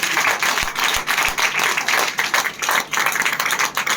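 Loud, sustained audience clapping at a direct selling seminar, dense and continuous with a few sharp thumps early on and no talking over it.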